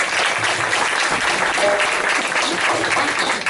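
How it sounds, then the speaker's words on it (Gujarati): An audience at a Gujarati music programme by Malhar Sanstha claps for the music composer, a dense, steady round of applause that stays loud and unbroken throughout. "એક જોરદાર તાળી દેવ સંગીતકાર"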